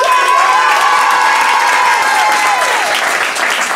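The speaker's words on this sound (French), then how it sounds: "On peut les applaudir plus que ça." Audience at a results announcement for a competition stage in Orléans applauding and cheering, a dense, loud, continuous wash of clapping with some shouts, steady throughout.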